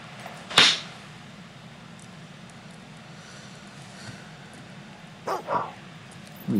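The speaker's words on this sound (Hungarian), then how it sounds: "Még mindig ugat." A dog barks in the video game Fable 2. One sharp bark comes early, then a close pair of barks follows near the end and another begins, all over a low, steady game ambience.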